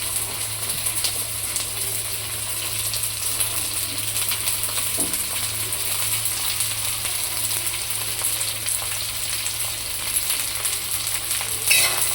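Garlic, onion, capsicum and cabbage sizzle steadily in a hot pan for homemade noodles, a continuous loud frying hiss with occasional scrapes of stirring and no talk.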